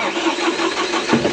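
An outside-cab diesel tractor engine turns over and catches, a close, loud mechanical churn with a rhythmic cranking pulse and a firmer thump near the end as it starts.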